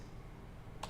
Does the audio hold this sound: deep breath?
no